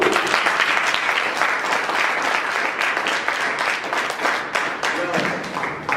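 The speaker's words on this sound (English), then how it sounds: "Now stand up, give yourself a hand clap." Crowd at a motivational speaking workshop in Biloxi, Mississippi, standing and applauding, loud continuous hand clapping with some voices mixed in throughout.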